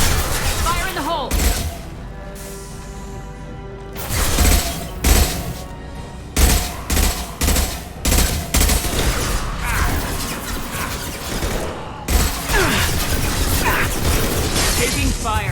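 Mass Effect 2 combat with loud bursts of gunfire, heavy impacts and explosive booms arriving in irregular clusters, punctuated by sharp cracks and crashes, with character voices calling out over the battle.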